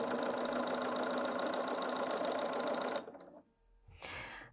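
A Bernina 770 QE Plus sewing machine runs steadily with a fast, dense mechanical whir, then stops abruptly; brief clicks and a short burst of motor noise follow as the needle pivots. Close and fairly loud, with no talking.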